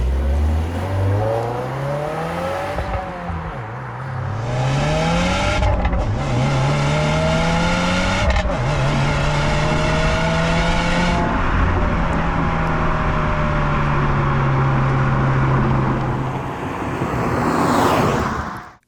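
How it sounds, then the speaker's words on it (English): A Subaru WRX TR engine revs hard and repeatedly, its pitch climbing and dropping through several gears, loud and close, then cuts off abruptly at the end. "it sounds like a truck V8 or something."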